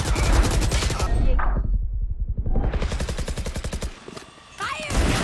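Rapid automatic gunfire in the video game Valorant, loud sustained bursts of dense repeated shots that break off briefly and then resume, with a brief pause near the end.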